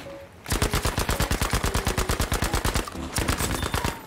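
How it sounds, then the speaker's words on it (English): Rapid automatic gunfire from Battlefield 2042 comes in long, evenly spaced bursts, loud and close, with a short pause before another burst. "they're shooting at us"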